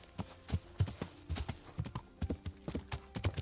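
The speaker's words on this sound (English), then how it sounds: "There's a horse." Horse hooves clip-clop in the video game Kingdom Come: Deliverance, a close, uneven run of thudding hoofbeats that repeats quickly and steadily over a few seconds with faint background ambience.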